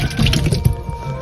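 Water draining from canned fruit cocktail, a short burst of close liquid splashing and dripping that fades within about a second.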